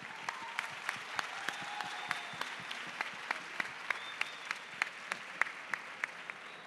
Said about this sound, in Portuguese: Uma salva de palmas, uma salva de palmas.